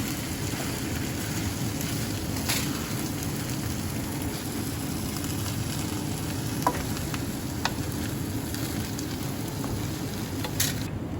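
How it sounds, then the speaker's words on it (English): Rice being stirred and tossed in a hot sizzling pan for Hainanese chicken rice, a continuous close crackling fry with a few sharper scrapes and clinks, no talking. "And now we're just going to mix this up. Make sure that every rice grain is really incorporated."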